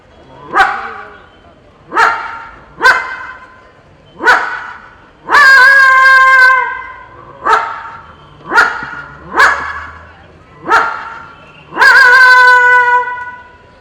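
At a Kerala school arts festival mimicry contest, a performer's voice imitates a barking dog: about ten loud, close, evenly spaced barks, with two longer drawn-out yowls among them.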